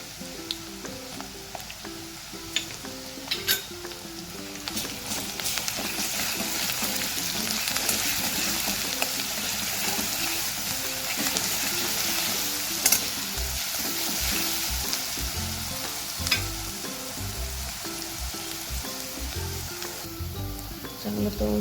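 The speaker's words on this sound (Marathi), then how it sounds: "कांदा तळला का लगेच अद्रक लसूण पेस्ट टाकायची आपल्याला." Onion fries loudly in a pan for a ridge gourd curry as ginger-garlic paste goes in, giving a steady, dense sizzle with intermittent stirring clicks and scrapes throughout, no voices.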